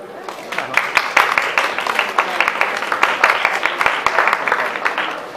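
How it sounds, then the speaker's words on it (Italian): An audience claps steadily after an Italian poetry reading at a "Poesia a strappo" event, with dense, even applause that holds throughout and fades slightly at the end. "un applauso"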